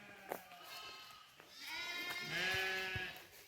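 Sheep bleat repeatedly at their evening camp in a forest, several overlapping calls of varying pitch sounding from near and farther off in a quiet setting.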